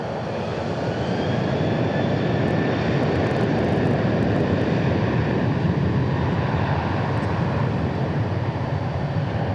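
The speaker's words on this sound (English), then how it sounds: "This 737-800 is taking off to San Antonio." A Boeing 737-800 takes off at DFW International Airport, producing a continuous loud engine roar with a broad rumbling rush that holds steady throughout, heard from a distance with no speech.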